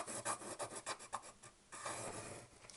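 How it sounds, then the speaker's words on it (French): Quiet rasping scrape of a tool pressed along a line about 1 cm from the edge of material to score a fold, repeated strokes in quick succession, close and faint. "vous allez tracer, je sais pas si on voit bien, un trait comme ceci, environ 1 cm du bord"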